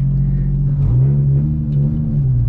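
A Nissan 350Z with a misfire and exhaust leak idles and then blips its engine, giving a loud, close, rough, uneven low rumble that rises briefly in pitch.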